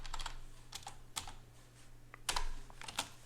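Keys clatter on a computer keyboard as a command is typed, in short bursts of clicks with pauses and a louder flurry near the end, close and clear over a low steady hum.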